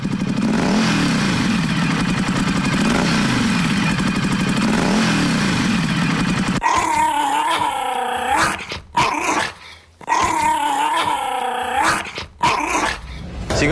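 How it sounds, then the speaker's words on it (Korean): A motorcycle engine revs with a rough, steady buzzing drone for several seconds, then gives way to close, harmonic dog-like growling in broken bursts. "오토바이에서 이렇게 부릉부릉 아니면 으릉 소리가 강아지들 으르렁거리는 소리와 너무 비슷해요"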